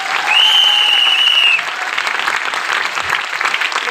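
Audience applause rings out for two people, a loud, dense, steady clapping that stays strong throughout and eases only slightly partway through.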